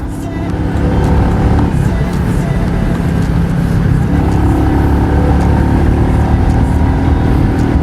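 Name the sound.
Royal Enfield Meteor 350 motorcycle accelerating through gears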